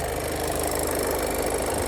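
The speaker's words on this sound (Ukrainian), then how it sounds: "Ось робота двигуна." A Volkswagen Golf 7 with a 1.6 TDI 85 kW diesel engine idles close by, a steady, even mechanical hum with no talk.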